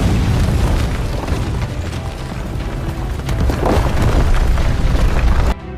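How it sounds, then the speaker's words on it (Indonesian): Bomb explosion destroying a fort's western wall in an Indian war film, a loud, dense, sustained booming roar with rumbling debris that cuts off abruptly near the end. "kaum Pathan pun berhasil menanamkan bom di benteng sebelah barat dan"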